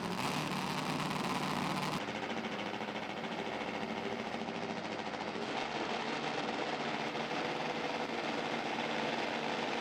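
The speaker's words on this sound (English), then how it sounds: "On to FIM Top Fuel bike now" A nitro-burning FIM Top Fuel drag bike makes a run at a European drag racing final at Santa Pod, a loud, continuous broadband engine roar filling the whole clip, with a sharp change at about two seconds.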